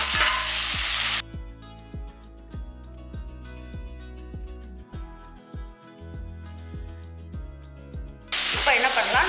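Chopped tomatoes sizzle and fry in a pan of Madurai mutton gravy base with a pinch of turmeric, a steady close hiss broken by regular stirring scrapes, with louder bursts of frying at the start and end.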